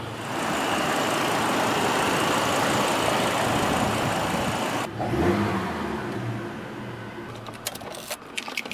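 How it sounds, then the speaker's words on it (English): A 2007 Chevrolet Colorado 4x4 pickup's engine, heard from inside the cab, runs at a steady loud drone for several seconds, then drops away to a quieter rumble with some faint clicks near the end. "You do hear the engine inside the truck though when you speed up."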